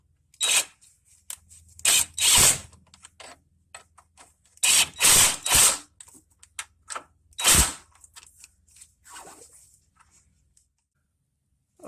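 Short bursts from a power tool driving in Ford front stabilizer bushing bolts on a low clutch setting, several separate buzzing runs of a second or so each, close and loud with quiet gaps between and no talk.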